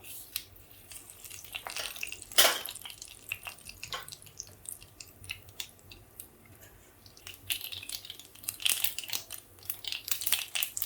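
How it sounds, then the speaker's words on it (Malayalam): Mustard seeds crackle and pop in hot oil, sharp irregular snaps coming in scattered bursts, close by and moderately quiet. "കടുക് നന്നായിട്ട് പൊട്ടി വന്നിട്ടുണ്ട്"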